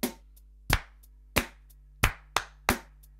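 Sharp hand claps ring out alone in a slow, uneven rhythm, six loud claps spaced about half a second to nearly a second apart, close to the listener, teaching a call-and-response clapping pattern.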